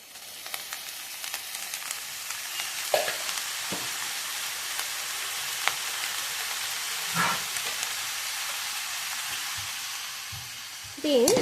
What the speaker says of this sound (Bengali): এরপর এর মধ্যে দেবো একটু জলের ছিটা।